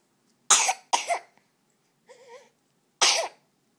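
Three sharp, close coughs, two in quick succession and one after a pause, with a brief higher vocal hum in between.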